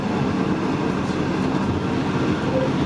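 A V/Line diesel train hauled by N class locomotives N475 and N465 rumbles at Geelong, a continuous loud engine drone and rolling noise with no distinct breaks, and no voices heard.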